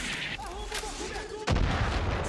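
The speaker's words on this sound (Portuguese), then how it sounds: "Me assustou pra caramba esse morteiro aí" A mortar round booms loudly in the Far Cry 5 video game, a sudden heavy blast near the end that follows a stretch of ambient game sound and faint tonal effects.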